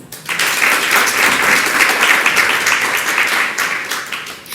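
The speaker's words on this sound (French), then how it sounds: "Mesdames et messieurs, on applaudit pour nos candidats." A live audience at a couples' stage show applauds loudly and steadily, a dense wash of clapping that holds for several seconds and eases slightly at the end.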